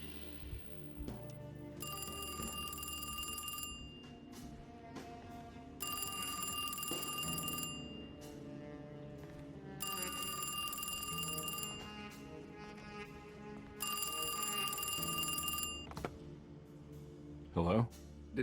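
A telephone in Alone in the Dark rings in four long, loud bell bursts separated by pauses, with game ambience and background sounds between rings.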